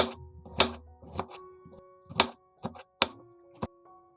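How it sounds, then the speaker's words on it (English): Kitchen knife thinly slicing a red onion on a cutting board: a series of crisp, irregular chopping thunks, close and distinct, with quiet gaps between cuts and no talking. "Red onion. Slice very thinly."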